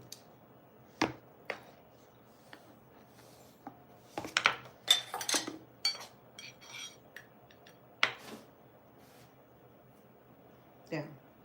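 A utensil clinks and scrapes against a pot while black-eyed bean and glutinous rice dessert is stirred and tasted, giving scattered sharp knocks and a cluster of clatter mid-way, heard up close in a quiet kitchen.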